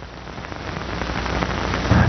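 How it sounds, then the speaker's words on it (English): Rain falls steadily in a dense, close hiss of drops on a surface, swelling slightly louder toward the end, with no voices. "and falls as rain or snow."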